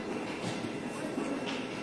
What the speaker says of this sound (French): nous sommes à Paris là. Métro La République.